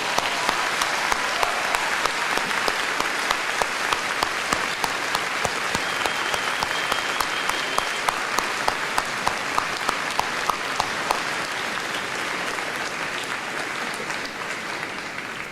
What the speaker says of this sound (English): join me in the faculty in expressing our appreciation with applause